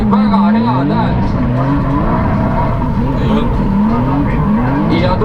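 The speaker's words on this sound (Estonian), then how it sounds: "Auto mürtsub ja teeb väga head häält." A car engine roars loudly while drifting at a drift event, revs rising and falling repeatedly with tire squeal, and a voice talks over it.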